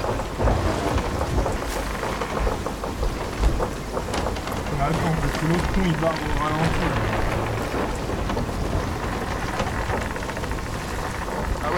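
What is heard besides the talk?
storm with rain and thunder at sea, from video game Sea of Thieves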